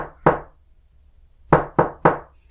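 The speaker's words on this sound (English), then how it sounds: "she heard a knock again, this time from the back door" Four sharp knocks on a back door, one alone and then a quick run of three after a pause, close and clear with no talk.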